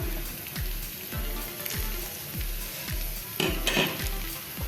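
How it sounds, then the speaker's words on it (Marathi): Tomatoes fry in a pan with green chili for a broccoli bhaji, a steady close sizzle broken by regular rhythmic scrapes of a spoon stirring against the pan, with no voices. "टोमॅटो सुद्धा आपण थोडेसे फ्राय करून घेऊया ते थोडे मऊ होईपर्यंत"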